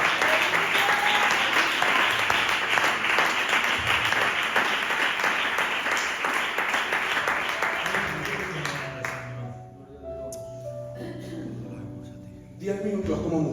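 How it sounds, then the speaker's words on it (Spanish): A church congregation claps in sustained, loud applause that gradually dies away, and a voice then speaks over a quieter room. "Dale un aplauso al Señor en esta tarde."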